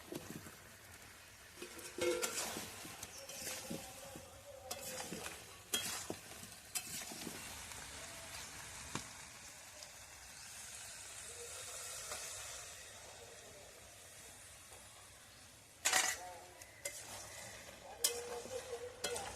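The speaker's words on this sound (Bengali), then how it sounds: "সেদ্ধ করা মাংসের জলটা অল্প অল্প দিয়ে দিয়ে কষিয়ে নিচ্ছি মাংসটা।" Mutton with ground spice paste and fried potatoes stir-fried in a pan, soft sizzling under repeated scraping stirs and occasional sharper clanks of the spoon, close and moderately quiet throughout.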